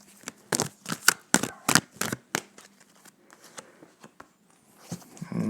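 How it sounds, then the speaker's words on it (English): Tarot cards shuffled close up: a quick run of sharp riffling bursts, then softer scattered card rustles and taps, with a final riffle at the end. "They're having a hard time shuffling."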